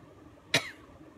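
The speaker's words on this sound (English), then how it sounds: "I'm gonna start coughing." A single sharp cough, close and fairly loud, during a chalk transfer craft demonstration, with a quiet room around it and no talking.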